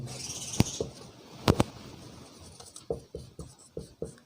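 A pen or pencil writing names of texts by hand, soft scratchy strokes with a few sharp taps, close and fairly quiet, with no talking.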